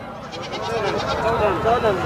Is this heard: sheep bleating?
yes